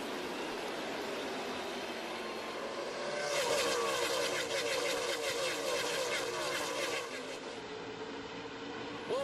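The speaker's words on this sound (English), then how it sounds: "Short track racing." Stock cars race at the Richmond, Virginia short track during a 2007 Chevy Rock & Roll 400, a dense, loud roar of many engines swelling as the pack passes close by, with a commentator talking over it.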